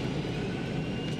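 Steady muffled engine drone inside an aircraft cabin, a low continuous rumble with no breaks or voices.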